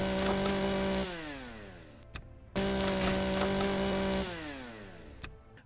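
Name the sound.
cutting trees with a tool in the video game Empyrion Galactic Survival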